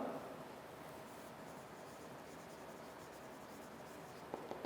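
Chalk or marker scratching steadily across a classroom board during an English lesson, a continuous soft rubbing texture close by with no talking.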